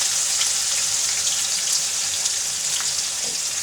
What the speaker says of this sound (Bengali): একবারে তেলে দিয়ে দিলাম।